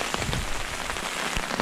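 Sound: pouring rain at a camp

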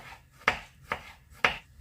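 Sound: chopping carrot on a board

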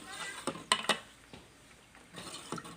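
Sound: ladling pork dish into bowls and plates

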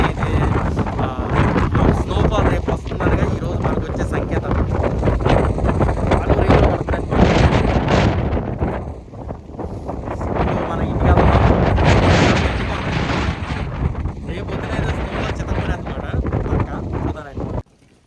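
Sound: strong wind blowing before snowfall

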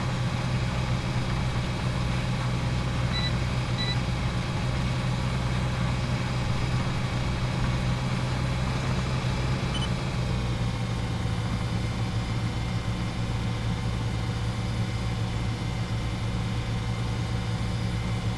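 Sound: tractor engine while turning around in Farming Simulator video game

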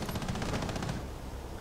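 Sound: gunshot in a shooter video game

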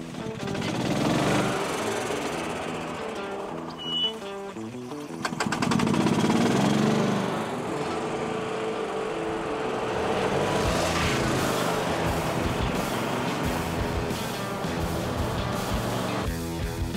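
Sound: golf cart driving

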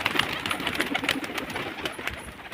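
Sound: pigeon cooing

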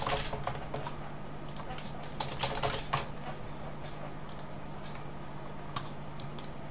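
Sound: typing a password on a computer keyboard

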